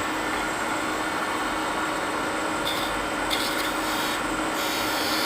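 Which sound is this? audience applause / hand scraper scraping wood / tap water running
hand scraper scraping wood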